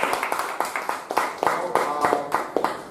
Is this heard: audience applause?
yes